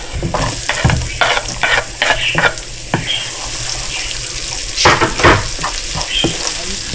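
Cooking oil boils and sizzles in a pan, a steady frying crackle with repeated sharper spits and scraping stirs close by.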